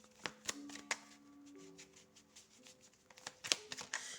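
Cards shuffled and drawn during a tarot reading, close soft riffles and flicks with a few sharp snaps of cards laid down, quiet and intermittent without speech.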